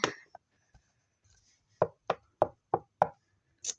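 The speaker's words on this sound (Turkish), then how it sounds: "Ay kapı çaldı." Knocking on a house door: five evenly spaced, firm raps close by, following a brief voice and a few faint bumps.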